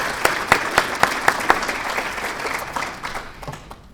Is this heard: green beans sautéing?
no